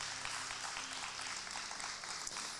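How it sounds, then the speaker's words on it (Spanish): A church congregation at a Spanish-language worship service claps in sustained, even applause, a dense wash of hand claps filling the room at moderate level with no talking over it. "Dale un fuerte aplauso."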